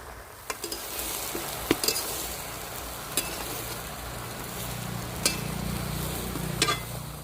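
A spatula stirs taro leaves with hilsa fish head in a frying pan, giving a soft, continuous frying sizzle with occasional light scrapes and clinks against the pan.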